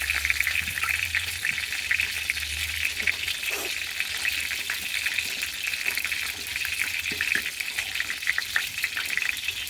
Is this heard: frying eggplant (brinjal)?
yes